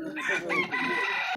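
A rooster crows at an outdoor livestock fair where chickens and rabbits are sold, giving one loud, close, drawn-out call.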